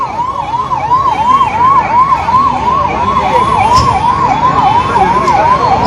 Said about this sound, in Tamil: ஆம்புலன்ஸ்க்கு வழி விடுங்கள்.